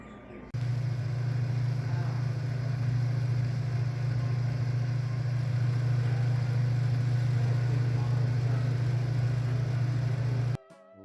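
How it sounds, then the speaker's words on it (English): Antique automobile engines running in a museum exhibit give a steady, continuous low idling drone, constant and moderately loud for about ten seconds before cutting off abruptly. "Here's an exhibit of actual working engines."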